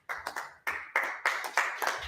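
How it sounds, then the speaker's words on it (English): A small class claps in a short, sparse burst of about seven sharp hand claps in an uneven rhythm, close and fairly quiet, with no talk over it. "Let's clap it up."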